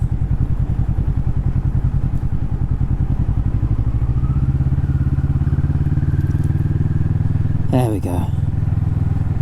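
A Kawasaki Vulcan S motorcycle engine chugs steadily at low revs, with a loud, close, pulsing throb under wind noise while a rider speaks briefly.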